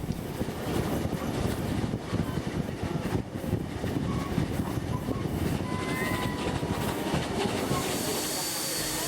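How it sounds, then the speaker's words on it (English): Two steam locomotives haul a train off the main line near Picton in New South Wales, giving a loud, continuous rumble with steady hiss and rolling clatter throughout. "the two locomotives are now nearing Picton"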